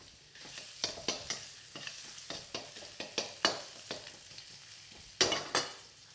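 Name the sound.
ginger frying in smoking hot wok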